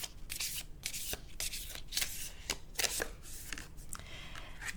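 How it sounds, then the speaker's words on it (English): A deck of tarot cards is riffled and shuffled by hand, a close, crisp flurry of rapid papery flutters and snaps in uneven bursts, continuous and without talk. "Let's shuffle a little bit more."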